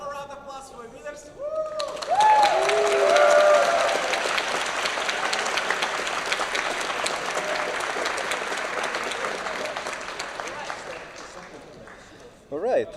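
A crowd applauds the winners at a tournament grand final, clapping swelling quickly to a loud peak and then continuing as a sustained, fairly dense round before fading near the end.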